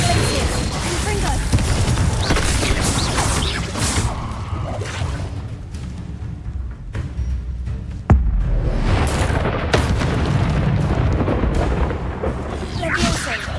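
Spell casts Levioso, Glacius and Confringo firing in a video game, a dense run of booming blasts and crackling magical impacts, loud and close, with a voice calling out over the effects.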